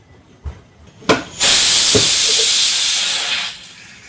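Pressure cooker cooking moong dal lets out a loud, sustained steam whistle-hiss lasting over two seconds, preceded by a few short clicks and puffs of steam, then cutting off abruptly.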